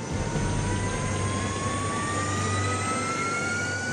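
The jet engine of a Horten H-9, a wartime bat-like jet fighter bomber partly built of wood, roars steadily and loudly with a rising whine. There is no speech.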